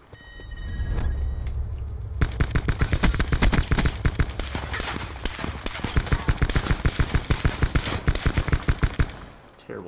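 Rapid automatic gunfire rattles in a Call of Duty Blackout battle royale match, with dense bursts of close, loud shots after a low rumble, continuing with brief pauses.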